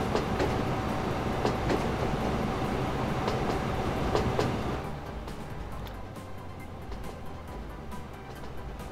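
Passenger train carriage rolling on rails in the game Train Fever, a loud, dense clattering rumble that drops abruptly to a quieter, thinner rolling sound partway through.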